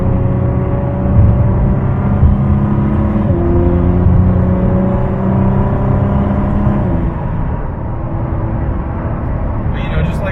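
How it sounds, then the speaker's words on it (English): Inside a 2019 Ford GT Heritage Edition cruising on a freeway in Mexico, a constant broadband road rumble and tyre noise fill the cabin with a steady low engine drone underneath, continuous and fairly loud throughout. "just like loping along, you get some road noise"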